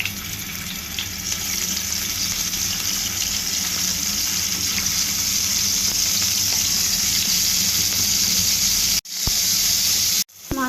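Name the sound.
turmeric-coated fish frying in a frying pan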